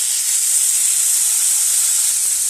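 Chicken feet frying in a pan as soy sauce and black pepper go in, giving a loud, steady, close hiss and sizzle with no break.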